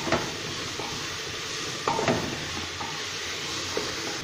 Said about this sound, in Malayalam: നന്നായിട്ട് ഒന്ന് വഴറ്റിയെടുക്കുക